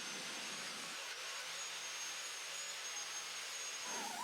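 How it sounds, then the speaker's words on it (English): Big angle grinder fitted with a wire wheel stripping unprimed black paint from a 1964 Triumph TR4 engine block, giving a steady, loud broadband whine that runs unbroken for the whole stretch with no talk. "I used a big angle grinder with a wire wheel on it for the places that I could reach"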